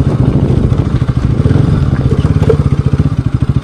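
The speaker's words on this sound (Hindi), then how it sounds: "और एग्जॉस्ट नोट तो आ ही रहा है काफ़ी अच्छा" A Bajaj Pulsar RS200 BS6 motorcycle, fitted with a non-stock exhaust, puts out a loud, close exhaust note as a rapid, even throbbing pulse at low revs that continues without pause.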